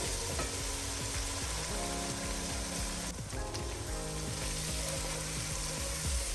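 Masala spices fry in a pan for a chicken and urad dal dish, a dense continuous sizzle and crackle heard up close with occasional stirring, without speech.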